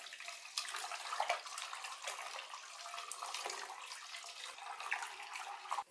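Water runs steadily from a tap and splashes as gluten dough is rinsed under it, a continuous gushing with small sloshing changes.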